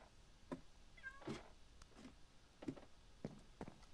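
A cat in a Minecraft modpack game meows a few times in short, soft calls scattered across a few seconds, with faint footstep-like taps in the background and no talking.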